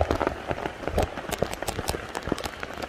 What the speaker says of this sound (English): Now the rain's going strong again.